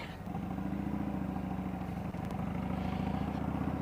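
Motorcycle on a test ride, captured by a GoPro Hero 8 Black, with a steady loud engine drone and wind rush running throughout, no one speaking.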